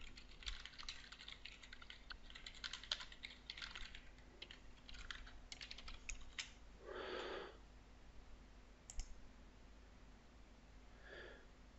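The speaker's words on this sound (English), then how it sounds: "so let's type them in again" Login credentials typed on a computer keyboard in bursts of quick, light clicks separated by pauses, close but quiet, with a sniff or breath partway through and no speech.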